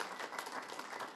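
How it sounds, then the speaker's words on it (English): A congregation applauds together, a dense and steady wash of clapping that holds fairly evenly for a moment before a brief swell at the end. "Please give a round of applause."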